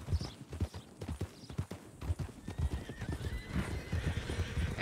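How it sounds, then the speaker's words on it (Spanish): Horses in a ranch roleplay video game neigh and whinny over steady clip-clopping hooves, the hoofbeats close and rhythmic while a high whinny rises toward the end. "Nada, dos caballos intentando procrear."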